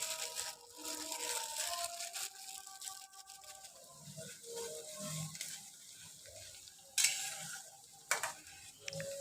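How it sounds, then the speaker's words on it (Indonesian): Shallots and garlic frying in plenty of oil for ayam betutu, a steady soft sizzle with occasional stirring and clinks of a utensil against the pan in a home kitchen. "Digoreng dengan minyak banyak sampai dia setengah matang."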